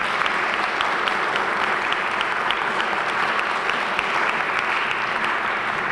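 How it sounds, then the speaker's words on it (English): A loud, steady round of applause fills a youth court induction ceremony in Jersey City, with many hands clapping together close by and no break. "Can we give them all a big round of applause?"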